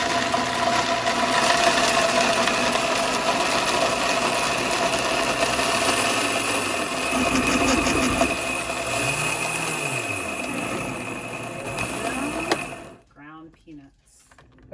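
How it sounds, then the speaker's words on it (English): A KitchenAid grinding peanuts, giving a loud steady mechanical whir with a pitch that dips and rises as the load changes, then cutting off abruptly as a voice begins talking. "we're going to grind these up"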